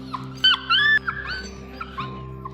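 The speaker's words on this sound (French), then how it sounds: "Oh là, il y a de gros chiens." Dogs at an animal shelter whimper and yip in short high-pitched cries, several brief whines in a row with a steady low hum behind them.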